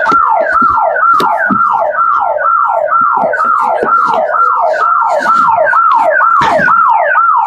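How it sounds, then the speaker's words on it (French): A loud wailing ambulance siren cycles rapidly up and down in a steady repeating pattern, close and continuous throughout. "je ne sais pas si c'est une ambulance qui s'approche"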